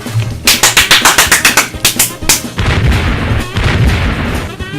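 A darkroom explosion in the Nancy Drew game Danger by Design, opening with a rapid series of sharp bangs that give way to a louder, sustained rumbling blast.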